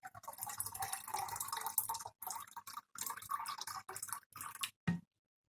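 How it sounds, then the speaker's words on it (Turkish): Homemade vinegar pours into a measuring cup as a disinfectant is mixed, a close, splashy liquid trickle broken by several short pauses and ending in a brief final splash. "Burada Ölçüye bakarak koyuyorum."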